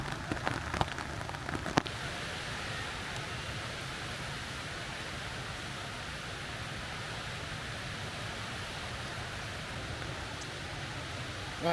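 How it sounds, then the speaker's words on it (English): Steady rain falling on a hiking bivvy along the River Severn, a dense, even patter close around with a few louder drops at the start and no talk. "It's now properly raining."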